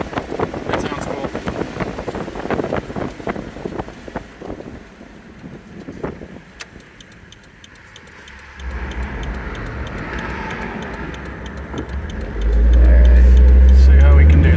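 A 1994 Toyota 4Runner fitted with a Mercedes turbo diesel accelerates: a low engine drone and wind buffeting build, then swell into a loud, heavy roar near the end, with some talk early on.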